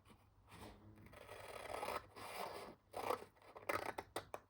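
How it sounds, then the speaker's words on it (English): Scissors snip and rasp through a paper coin envelope made from 12x12 paper in short close bursts, quiet and crisp, with brief pauses between cuts. "just cut this side just a little bit"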